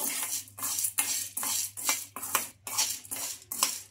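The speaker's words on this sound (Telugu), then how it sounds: "మనకు ఒక 2 నిమిషాల పాటు స్లిమ్ లో పెట్టేసుకొని బాగా కలుపుతూ ఈ సగ్గు బియ్యాన్ని బాగా ఫ్రై చేసుకోవాలి" A utensil scrapes and stirs sabudana (sago pearls) frying in a pan, a rapid regular series of dry scraping and clinking strokes, close and loud, alone with no talk.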